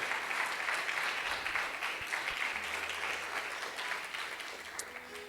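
A church congregation claps steadily at a worship service, a dense wash of hands filling the room continuously and gradually thinning toward the end, with no talk over it.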